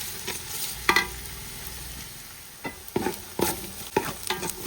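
Onions and green chillies sautéing with salt in a pan make a soft background sizzle, broken by several sharp spoon-against-pan clacks from stirring at irregular intervals, with no voices.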